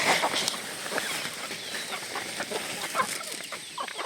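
Chickens being fed cluck and chatter continuously, with several birds calling at once over a soft, busy farmyard background, fairly close.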